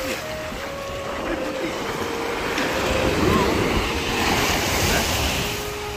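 Sea waves wash and roll continuously at a shoreline while fishing from the shore, a steady broad surge with wind noise swelling slightly midway and easing at the end.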